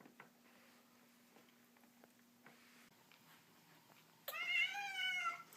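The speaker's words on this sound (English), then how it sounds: "These are my 4 tabby cats with white chests and paws." Tabby cats with white chests and paws meow near the end in a loud, close, drawn-out call after a stretch of quiet room noise with faint rustles.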